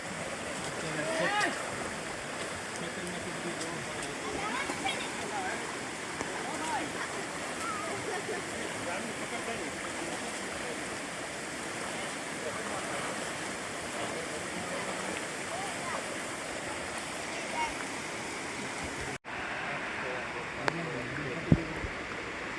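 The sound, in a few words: forceful river flowing after rain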